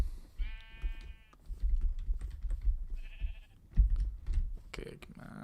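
Sheep in Minecraft bleat several times, short wavering calls close up, mixed with keyboard typing and quiet background clatter during survival gameplay.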